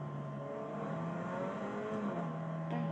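A small car's engine revs and idles in a garage, a steady moderate hum with rising and falling pitch, fairly distant and fairly quiet, with no talking.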